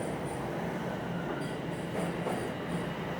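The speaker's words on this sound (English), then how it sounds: "And there goes the northbound train." A northbound Toronto subway train passes close by, loud steady rolling rumble with clickety rail noise and several short high wheel squeals throughout.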